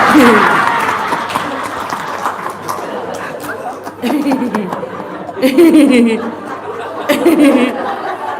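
A studio audience breaks into scattered applause mixed with chuckles and laughter, the clapping uneven and surging in bursts while voices talk and laugh over it, fairly loud and close.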